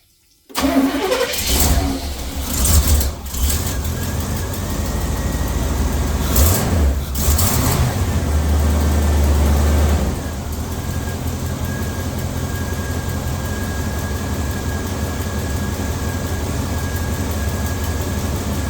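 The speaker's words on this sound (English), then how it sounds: "I want to see what it sounds like whenever it starts up now." A Chevrolet squarebody dually truck engine cranks and catches, revs loudly for several seconds, then drops into a steady, lower idle that runs on alone.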